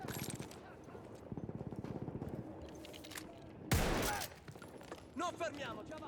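Rifle shots and distant battle fire in Battlefield 1: a rapid run of muffled reports, then a single loud close crack, followed by faint game voices and effects.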